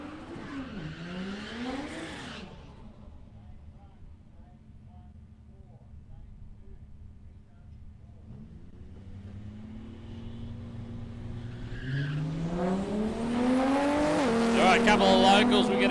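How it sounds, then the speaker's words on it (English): A supercharged drag racing car makes a pass at Palmyra Raceway, heard as a rising and falling engine roar that fades, then builds back loud and harsh toward the end, with talk over it. "Pretty stout little supercharged engine."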